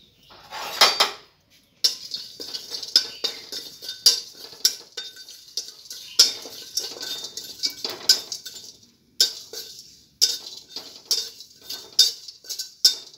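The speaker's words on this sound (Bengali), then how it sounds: "এখন এখানে দেখুন গোটা গরম মশলা, জিরে আমি একটু শুকনো খোলায় টেলে নেব" Whole garam masala and cumin are dry-roasted in a wok, with a metal spoon scraping and clinking against the pan in repeated, irregular strokes, close and fairly quiet.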